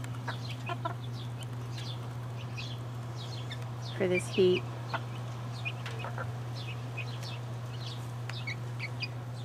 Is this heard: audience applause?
no